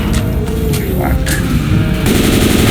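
Loud, sustained automatic gunfire in Left 4 Dead 2 rattles on without a break, with heavy rapid shots layered over a rumbling backdrop and game voices cutting through.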